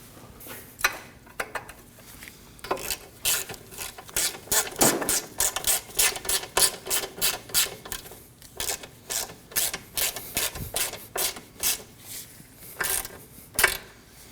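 A front CV axle nut being snugged down on a 2003-2006 Subaru Baja 2.5L H4, with rapid ratchet clicks in repeated bursts, close and loud, no talk.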